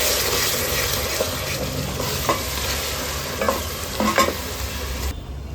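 Onion with ginger-garlic paste frying steadily in a pan for mutton keema ball curry, a continuous close sizzle with a few louder scraping stirs near the end and no talk.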